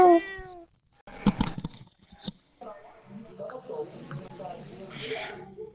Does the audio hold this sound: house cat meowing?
yes